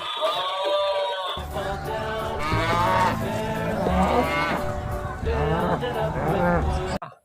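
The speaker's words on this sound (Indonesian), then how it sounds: "Wow, ada sapi teman-teman." A cow moos in long, drawn-out calls, one after another, with a low toy-like hum underneath and faint background chatter.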